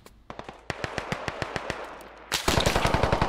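Rapid bursts of machine gun fire in the military shooter Squad, a steady rhythmic string of sharp shots that grows louder and denser near the end, with no talk over it.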